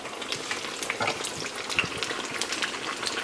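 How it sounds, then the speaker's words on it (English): Oil sizzles and crackles steadily as shrimp fry in a pan, a dense bed of spitting pops running throughout at close range. "we're going to get to frying these up"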